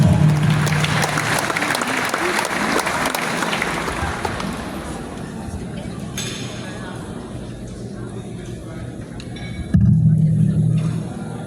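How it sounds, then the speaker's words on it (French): Loud, dense applause from a large crowd welcoming a doctor to the stage at a Haitian gathering, a sustained roar of clapping that thins slightly midway and swells again near the end, with some crowd noise mixed in. "Sur vos applaudissements, le docteur."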